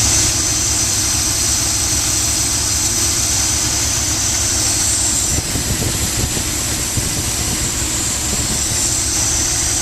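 The engine of a 1978 Dodge RV idles after an exhaust manifold repair, with no ticking and no exhaust leak. The idle is a loud, steady, close rumble that runs alone throughout.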